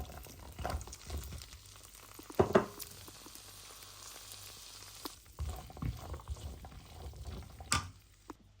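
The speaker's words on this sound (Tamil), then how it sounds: "பட்டர் மெல்ட் ஆகினோடனே இந்த பேபி கேரட்ஸை நாங்கள் இதுக்குள்ளே போடுவோம்" Baby carrots cook in butter melted over slow heat in a pan, giving a faint, soft sizzle with a few light clinks and stirring sounds in an otherwise quiet kitchen.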